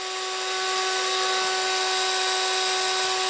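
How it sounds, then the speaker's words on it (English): A steady, high-pitched power drill whine as a large bit bores into attic wood, continuous at close range with a constant tone and no pauses. "This large drill bit seems a bit excessive."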